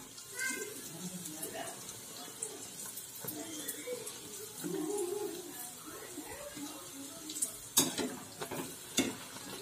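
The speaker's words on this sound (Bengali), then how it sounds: "আমি আরো একটি পুরি তেলে ছেড়ে দিচ্ছি, দেখুন কিভাবে হবে।" Naan puri fries in hot oil over high heat, giving a soft, continuous sizzle and bubbling with occasional stirring clatter, heard fairly quietly beneath a nearby voice.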